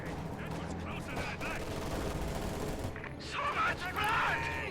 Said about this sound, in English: Grenades going off.